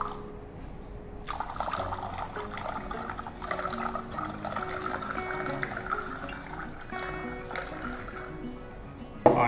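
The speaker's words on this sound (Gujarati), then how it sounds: "એ ગ્લાસમાં હું અંદર ખાલી જ છે, બરાબર. એમાં હું થોડું પાણી નાખું છું." Water is poured into an empty glass for a science experiment, a steady close trickle and splash that runs for several seconds before ending with a small clink.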